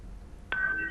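A telephone line tone signals an incoming caller on a live Hindi farm-advice phone-in broadcast: a short click, then a steady electronic beep held for about half a second over faint room hiss.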